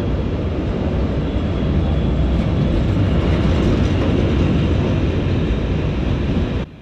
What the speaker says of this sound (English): Our train pulled into the station at about 9:45